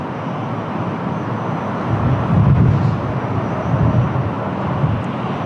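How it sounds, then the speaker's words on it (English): A Turkish Airlines Airbus A321neo taxiing at windy Lisbon Airport, its engines a low, steady rumble with gusty wind noise that swells and fades gently and never breaks. "Turkish Airlines Airbus A321neo, it's already clear to line up."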